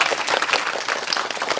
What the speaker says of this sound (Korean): 축하의 박수 한번 부탁드립니다.